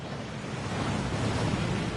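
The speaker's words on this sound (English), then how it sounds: "That waterfall washes away all enchantments." A waterfall in the Gringotts vaults of the Hogwarts Legacy video game roars in a steady, dense rush of falling water, loud and unbroken throughout, with no voices.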